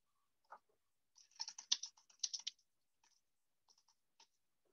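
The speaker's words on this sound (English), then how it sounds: "I'm going to just type it in here just to see how many TVs they used to make." A computer keyboard clicks in short, irregular bursts of keystrokes with gaps between them, close and quiet, and no one talks.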